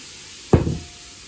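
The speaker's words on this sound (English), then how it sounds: "we got our butter browned over here. So let's go ahead and add our shrimp." Shrimp dropped into browned butter in a hot pan give one sudden loud burst of sizzling that quickly fades, with quiet before and after.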